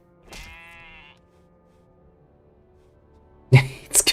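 A sheep in the fantasy role-playing game Divinity: Original Sin 2 gives one clear, wavering bleat, followed by quiet and then a brief burst of louder game sounds.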